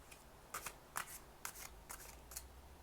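Tarot cards are shuffled close by, several quick papery riffles coming in short bursts over a quiet background.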